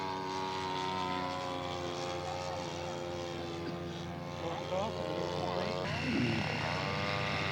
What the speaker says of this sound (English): Chuck Fuller doing an inverted flyby with his smoke